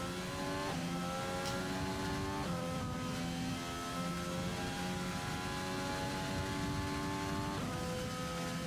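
McLaren race car in an Xbox One racing game at the Spanish Grand Prix, its engine note rising steadily and dropping sharply at a few gear shifts, loud and continuous with no talk.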